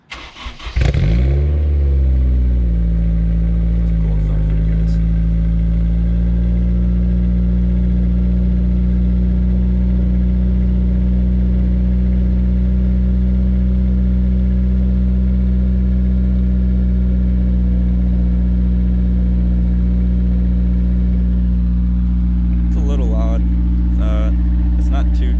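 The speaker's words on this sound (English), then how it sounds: "It has a, I believe, an Diva test pipe and Magan Racing dual exhaust. So it's pretty much straight pipe" Honda S2000 engine starting and holding a loud, steady idle through a Megan Racing 3-inch dual exhaust with a test pipe, close by, with a brief rev at the start and faint rustling near the end.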